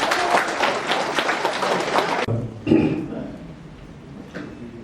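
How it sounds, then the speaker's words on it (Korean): Audience applause at a public lecture on the Daejeon 3.8 democratic uprising: dense, steady clapping from a crowd for about two seconds that stops abruptly, followed by quieter room noise with a few faint thumps. "여러분 큰 박수 부탁드립니다"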